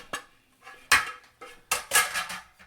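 Metal utensil knocks and scrapes against a mixing bowl as flour is tipped in and mixed into Victoria sponge cake batter, a few sharp clinks spaced through a short stretch with quiet gaps between them.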